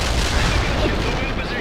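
Apache attack helicopters unleash their weapons in World in Conflict, a loud, dense, unbroken roar of firing that fills the whole short stretch with no pauses.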